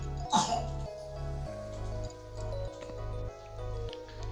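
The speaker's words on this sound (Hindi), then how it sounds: "वीडियो में खांसी की आवाज़ बहुत ज़्यादा आ रही है" A single cough or throat-clearing bursts out near the start, over a low steady hum with faint background sounds afterward.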